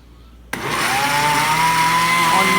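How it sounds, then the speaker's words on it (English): A kitchen blender switches on abruptly and runs at a steady, loud whirring pitch, blending a sandwich spread made with milk, with a faint low hum audible before the motor starts. "And you turn on your blender"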